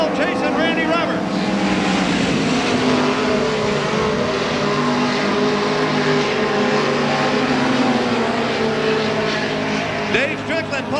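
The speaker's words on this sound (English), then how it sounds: "Dave Strickland pulling up lame in the 62M car" Midget race cars roar around the track at the Belleville Midget Nationals in 1991, a loud, constant engine drone from several cars without a break, with a voice faintly mixed in.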